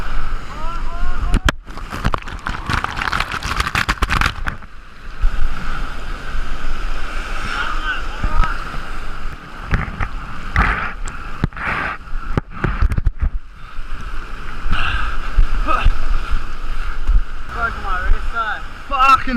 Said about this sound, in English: These fucking waves.